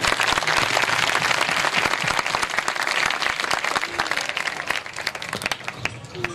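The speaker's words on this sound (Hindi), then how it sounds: "जिंदा कलाम के लिए जोरदार ताली मारें।" A church congregation claps loudly and enthusiastically during a worship service, dense overlapping hand claps with sharp individual slaps, sustained throughout and easing slightly toward the end.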